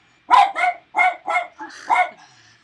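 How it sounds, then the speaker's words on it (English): Dogs bark indoors close by, a quick run of about six sharp barks and yips in irregular bursts, loud and alone with no talk over them. "I can't hear you suddenly because the dogs have decided to have a bark"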